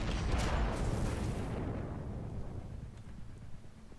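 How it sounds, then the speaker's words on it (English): A big explosion from the Destiny 2 video game booms loudly at the start, then its deep rumble slowly fades away over a few seconds, with no talking. "Yep, all the Michael Bay explosions"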